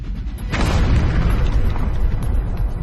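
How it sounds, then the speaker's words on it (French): A nuclear warhead detonation rendered as a massive deep boom that erupts suddenly and sustains as a loud, rumbling roar for the rest of the clip. "L'explosion d'une ogive nucléaire"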